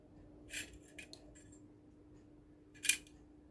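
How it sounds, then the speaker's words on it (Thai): A staple gun being loaded with staples, its back end pressed down and pushed back up, giving two sharp metallic clicks about two seconds apart in a quiet room. "ใส่ลูกแม็กก็ ตูดมันนะคะ กด กด กดลงแล้วดันขึ้นมาแบบนี้"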